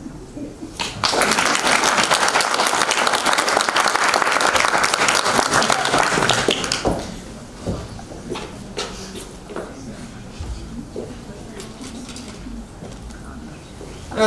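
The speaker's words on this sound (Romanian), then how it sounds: "De aplaudat, aplaudați numai când vi se face semn" Audience applause fills a hall at a televised National Culture Day event in Moinești: a loud, dense burst of clapping for about six seconds, then it fades to scattered claps and murmuring room noise.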